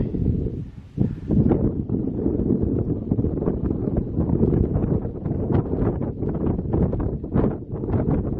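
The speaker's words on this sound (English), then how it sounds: "It's really windy up here" Strong wind on Mary's Rock mountain top in Shenandoah National Park, roaring and buffeting the microphone in heavy, continuous gusts, close and loud throughout with no talking.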